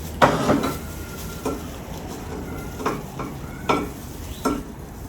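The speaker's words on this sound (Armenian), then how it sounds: "Հիմա գրեչկան ջուր կավելացնենք ու կդնենք էլի էփելու։" Buckwheat in a pan with water just added, stirred with a utensil: a handful of scraping, clinking strokes spaced over a few seconds above a soft steady sizzle, close and fairly quiet.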